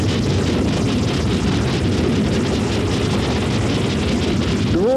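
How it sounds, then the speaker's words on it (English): Burning gas roars steadily in the aftermath of a flash gas explosion in Brenham, a loud, unbroken, rumbling wash of noise that fills the whole stretch with no voices. "The burning gas can be heard all around the area"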